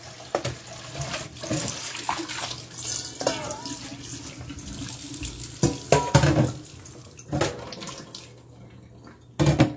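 A sieve basket rinsed under running water in a home kitchen while preparing noodles, steady tap splashing with intermittent louder bursts and clinks of the basket, a voice speaking over it at times.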